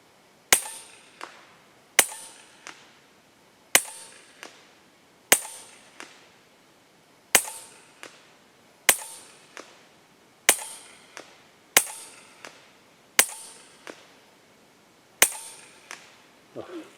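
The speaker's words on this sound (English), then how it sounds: "This is about as fast as I can shoot." K1 gun fired rapidly at a target, a regular series of about eleven sharp cracks roughly 1.5 seconds apart, each trailed by a fainter secondary snap, close and clear with no talk.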